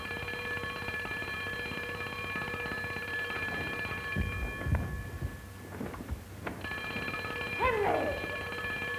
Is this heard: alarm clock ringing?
yes